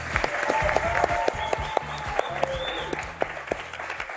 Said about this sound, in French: on accueille sous vos applaudissements Thierry Beccaro.